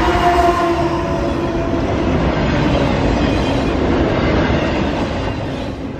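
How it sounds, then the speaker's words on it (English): A freight train rolls past on CSX rails, a loud continuous rumble with rhythmic wheel clatter and faint metallic squeal, close by and steady, fading slightly at the end. "these final two trains snuck up on us and we almost missed them entirely"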